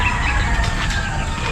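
Roosters and chickens at a backyard poultry coop, clucking with a crow rising through steady background noise; the birds sound fairly close and continuous, with no talking.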